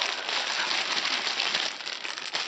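Plastic wrapping crinkled and torn while unpacking a Pokémon magazine package, a dense, continuous rustling close by with no talk.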